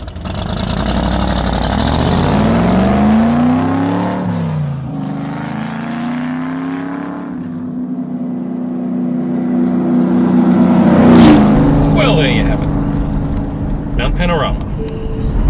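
A car lapping the Mount Panorama circuit at Bathurst, its engine note climbing and falling through gear changes at close range, with a navigation voice and talk over the top.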